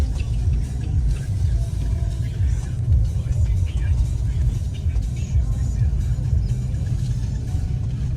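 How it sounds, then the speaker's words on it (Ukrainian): Steady low road rumble of cars going by on a street, loud and continuous with no distinct gaps between vehicles. "Ну, скільки машин."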